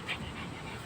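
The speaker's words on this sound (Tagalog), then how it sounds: "yung magandang aso niya guys sumalubong sa akin" A dog greeting a visitor at the door of a house, with soft, close panting breaths and a brief faint whimper near the start, fairly quiet.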